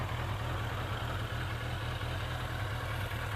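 A Yamaha XJ750 motorcycle with stainless exhaust silencers idles with a steady low rumble continuously at close range, even and unbroken throughout.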